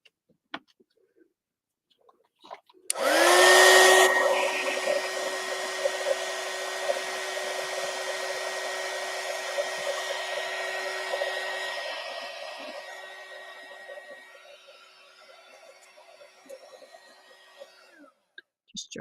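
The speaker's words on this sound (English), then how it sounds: "Pull out my little dryer over here." A small handheld craft heat dryer blows steadily on glue in a craft journal, switching on loud with a sharp whoosh and a constant whine, then running on close and gradually quieter before cutting off.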